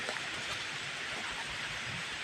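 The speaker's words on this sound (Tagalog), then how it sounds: "grabing ulan na lakas ah" Steady, dense rain hissing across a wide band, loud and continuous with no voices, like a heavy downpour drumming on a roof.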